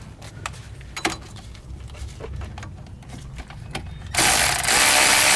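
A torque wrench tightens front wheel hub bolts on a Chevy Cavalier with a series of sharp ratcheting clicks close by. Near the end a loud broadband hiss or rush comes in and drowns out the clicks.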